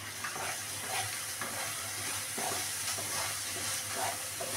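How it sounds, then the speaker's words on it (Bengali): Green chili paste with ginger paste sautés and is stirred in a pan, giving a soft, steady sizzle with faint scraping strokes throughout, fairly quiet. "এবার এটাকে একটুখানি কষিয়ে নেব।"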